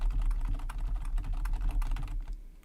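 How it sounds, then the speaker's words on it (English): Dense, rapid keystrokes on a computer keyboard clatter close and loud during a live stream, a steady flurry that breaks off near the end. "You can hear me typing all the hugs."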